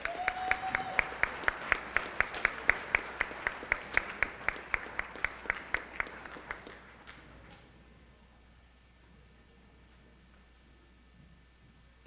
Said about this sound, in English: One quick round of applause for these kids who worked hard